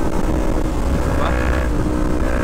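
A Yamaha MT-03 motorcycle engine drones steadily while the bike is ridden, a loud, continuous rumble mixed with wind noise that does not let up.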